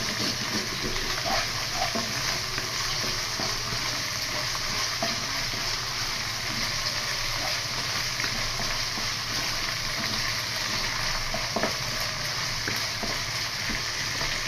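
Ginger-garlic paste fries in hot oil for a jackfruit and prawn curry, a steady close sizzle and crackle with occasional spatter and stirring, continuous and even throughout.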